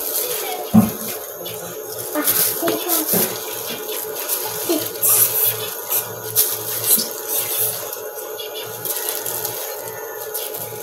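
Water runs from a tap and splashes into a pot while cassava is prepared for steaming. The trickling and splashing is moderate and uneven, with clattering handling sounds and some background voices in a home kitchen.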